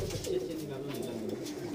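Soft pigeon cooing at a loft, low repeated coos under faint background noise, fairly quiet and continuous over a short stretch.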